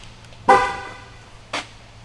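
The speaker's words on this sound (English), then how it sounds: "Let's say I lock the car." A BMW X6 gives two short horn chirps while locking, about a second apart, the first louder and longer, heard outdoors against low background hum.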